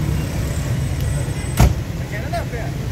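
The back door of a used car is opened at an outdoor Sunday used-car market, giving one brief latch click and thunk over steady crowd and street noise.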